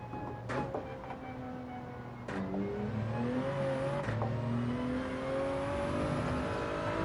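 Porsche engine in a racing video game, holding a steady mid-pitched drone that rises through the gears, with sharp shift breaks near the start and middle; loud and continuous with no talk over it.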